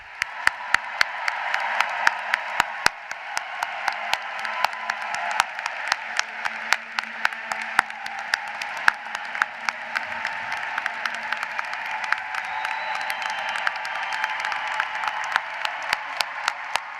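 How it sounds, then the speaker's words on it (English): At a Boston College Law School commencement in 2023, a large crowd applauds graduates with sustained, dense clapping that holds steady for the whole stretch, with sharp individual claps standing out and no talking. "Please join me in one more round of applause to our now graduates."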